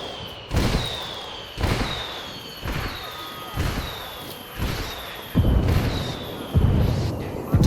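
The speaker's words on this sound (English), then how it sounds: "so we're just gonna call in a little mortar fire. I'm calling for indirect fire." Mortar rounds land one after another in Ghost Recon Wildlands, about eight heavy booming explosions at roughly one-second intervals, each preceded by a short descending whistle, loud and close over a low rumbling background.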